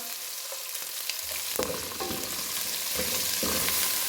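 Four bay leaves go into hot oil with ginger-garlic paste for kadhi pakora and crackle steadily, broken by a few soft stirring clatters, with no voices.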